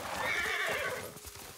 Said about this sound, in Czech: Já mám koně.